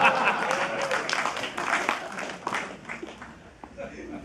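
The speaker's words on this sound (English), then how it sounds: "Clap now." An audience at a stand-up comedy show claps, with a burst of applause loud at first that thins and fades. A voice talks faintly underneath.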